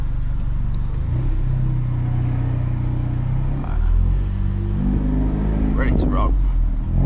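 A 400 BHP Volkswagen Golf R with the windows down, its engine rumbling and revving in a few rising and falling pulls, heard from inside the car while a person talks over it.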